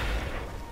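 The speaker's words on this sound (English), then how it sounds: "that's the sound of explosions" Explosions in the Stalingrad war game Red Orchestra 2: a low, continuous battlefield rumble ends in a sudden sharp, loud blast.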